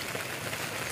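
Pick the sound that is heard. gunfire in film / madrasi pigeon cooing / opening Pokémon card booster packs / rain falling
rain falling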